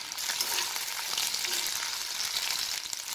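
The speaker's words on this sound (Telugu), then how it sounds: "ఇవి రెండు ఒక 2 మినిట్స్ ఆయిల్లో ఇలాగే వేగనివ్వాలి." Ginger pieces and dried red chillies fry in hot oil, giving a soft, even, continuous sizzle with faint crackle and no talking.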